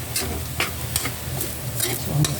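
Fried rice made with leftover dishes and seasoned with soy sauce, stirred in a pan at home, giving a continuous close sizzle punctuated by repeated spatula scrapes and clacks, with no one talking.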